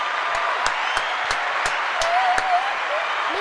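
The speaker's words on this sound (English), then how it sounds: "our special guests, a round of applause." A live stream audience gives a round of applause for special guests, with steady clapping and crowd noise running throughout and a few sharper individual claps standing out, while a voice briefly speaks underneath.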